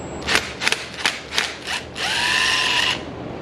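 A hand tool ratchets on a bolt on a 2022 Kawasaki ZX6R bracket, five quick clicking bursts followed by a steady whirring spin, close and fairly loud with no talking.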